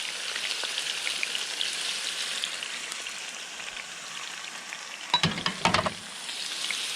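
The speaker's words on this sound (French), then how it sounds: "je fais bien embuer mes champignons dans l'huile" Oyster mushrooms sizzle and fry in hot simmering oil, a steady close crackling hiss with a brief burst of louder spattering and stirring near the end.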